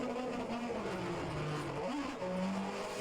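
Onboard race car engine in a sim racing game recreating the 1988 British Grand Prix at Silverstone, a loud, close engine note rising and falling through gear changes and revs, with no talk over it.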